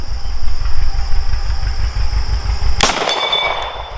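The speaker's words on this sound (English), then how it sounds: "Again, just a very slight hang fire on that." A single sharp pistol shot from a Staccato C DUO firing Federal 147 ammunition with a very slight hang fire, breaking loudly through a steady low engine-like rumble at an outdoor range.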